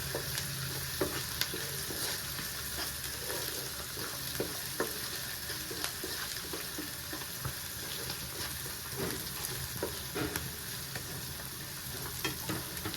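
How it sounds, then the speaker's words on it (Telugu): Cauliflower florets frying in a pan for a gobi tomato curry, with a steady close sizzle and occasional stirring scrapes running throughout, no voices. "ఇలాగా బాగా ఫ్రై అవ్వాలి"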